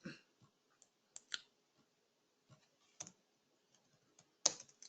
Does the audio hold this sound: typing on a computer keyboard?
yes